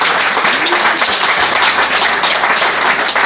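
A church congregation applauds loudly and steadily, many hands clapping together in a sustained, close, dense burst lasting several seconds.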